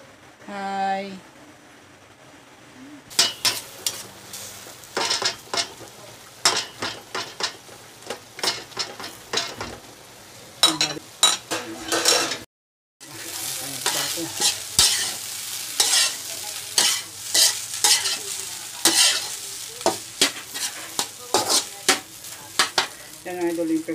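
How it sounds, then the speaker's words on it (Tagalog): Rice and garlic fry in a pan once used for frying galunggong, a spatula scraping and stirring in irregular bursts over a steady sizzle, with a short pause partway through. "dito ko na sinangag, pero nilagyan ko ng bawang idol"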